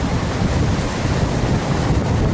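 Rough, churning sea waves roll onto a Miami beach in Florida, a dense, steady roar of surf mixed with gusting wind buffeting the microphone, loud and continuous with no voices.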